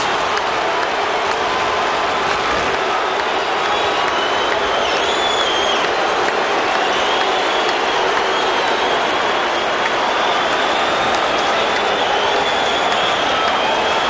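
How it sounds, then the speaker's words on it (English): A packed arena crowd roars and cheers at a Lakers basketball game after a Michael Cooper play, a loud, sustained wall of crowd noise with applause running unbroken throughout. "But listen to this crowd on Cooper's heroics."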